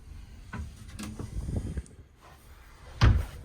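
Cabin drawers in a Norwegian Jewel cruise ship stateroom slide open and shut with soft wooden knocks. A firmer closing thud comes near the end, against quiet room tone.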